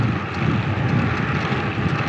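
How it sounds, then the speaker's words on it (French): Strong wind blowing across an outdoor microphone during a bike ride, a steady low buffeting rumble that fills the whole stretch with no talk. "en prenant un peu de vent parce que finalement le vent s'est levé."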